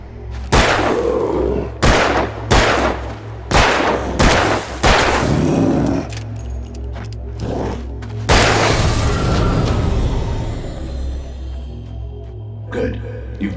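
Loud, booming gunshots in Alan Wake ring out roughly once a second in a steady series, then give way to a longer rumbling burst and scattered softer cracks over a low constant hum, with a voice speaking.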